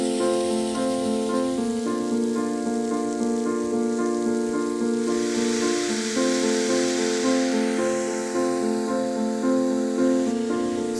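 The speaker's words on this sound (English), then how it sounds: "spray the whole area of snow and try to build up that first layer" Steady hiss of water spraying from a 1-inch hose at full blast onto snow for an outdoor rink, continuous and close, over a constant droning mechanical hum.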